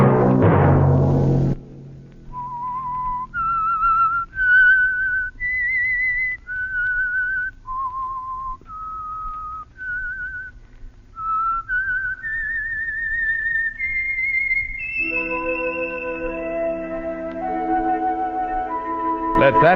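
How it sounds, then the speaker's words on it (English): A lone whistled melody of clear, sustained notes rising and falling, preceded by a short burst of sound and joined near the end by accompanying tones, in a 1949 radio drama. "Let that whistle be your signal"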